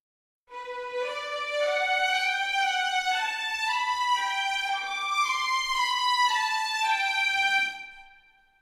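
Bowed strings play a melody of short, accented marcato notes, each note separately attacked and sustained, continuous with no talking.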